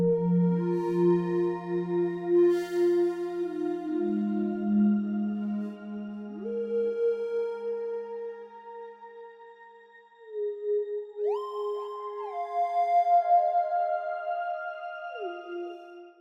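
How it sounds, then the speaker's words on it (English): Arturia Pigments synthesizer patch playing an endless, evolving generative melodic soundscape: sustained sine-like tones glide smoothly between pitches in slow overlapping layers, steady and moderately quiet with no voices. "use Arturia Pigments to create an endless evolving melodic soundscape"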